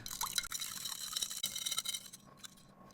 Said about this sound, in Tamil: இந்த ஜெம்ஸை தண்ணிக்குள்ளே போட்டு கலக்கிற என்ன ஆகுதுன்னு பாருங்க.